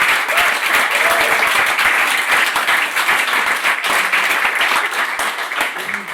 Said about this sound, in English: I really want a big applause for this batch